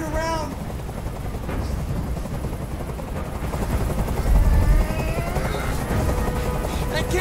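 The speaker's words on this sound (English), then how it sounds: "Tell that helicopter to get out of here!" A helicopter hovers close overhead in the video game Detroit: Become Human, a steady, loud, dense rotor roar that swells midway, with scattered bangs and game sounds layered over it.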